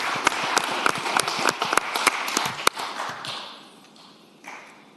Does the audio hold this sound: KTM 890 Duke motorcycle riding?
no